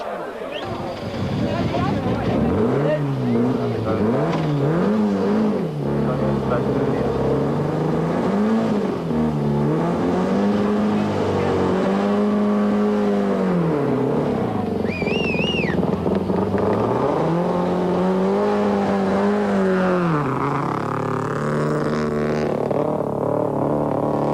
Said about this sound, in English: Despite a cautious approach to the river, the Conquest takes in water and in the process loses 45 seconds in the stage.